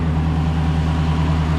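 A Lexus LC500 with an aftermarket intake runs steadily at idle, a close, even low engine hum with no talking.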